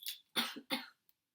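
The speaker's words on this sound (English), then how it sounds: "so Shiloh coughed again." A voice performs a cough in a spoken story about a rabbit, giving three quick, close throaty coughs in a little over a second, followed by a tiny click and silence.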